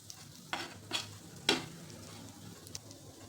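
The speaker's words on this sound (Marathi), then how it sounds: "मसाला छान फ्राय होऊ द्यायचा आहे." Masala fries in a pan for stuffed bitter gourd curry, a soft continuous sizzle broken by a few sharp scrapes and clinks of a spoon stirring against the pan.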